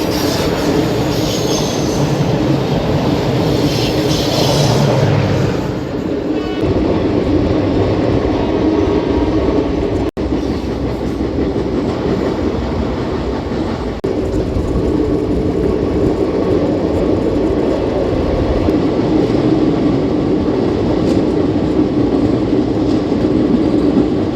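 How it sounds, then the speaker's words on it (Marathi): The Pune–Kolhapur DEMU express thunders past on the adjacent track during a crossing, heard from aboard a fast-moving train as a loud, sustained roar with wheel rumble and squeal for over twenty seconds, no voices. "तर डेमो एक्सप्रेस आलेले आहे आता."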